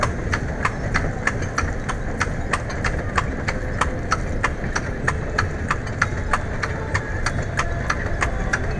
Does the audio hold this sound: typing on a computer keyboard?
no